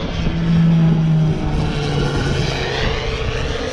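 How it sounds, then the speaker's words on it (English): A crop duster plane passes overhead on an agricultural job, its droning engine steady and fairly loud with a low hum, swelling early and then holding on with no talk. "So when there's a crop duster coming around a manned aircraft, we have to bring our drones down."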